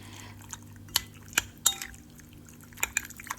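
Coconut milk mixed into a Thai fish curry paste with egg and seasoning, heard as soft wet squishes and drips with a few sharp clicks of a utensil against the bowl, close and quiet.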